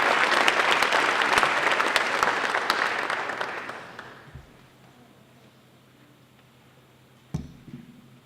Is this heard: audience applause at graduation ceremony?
yes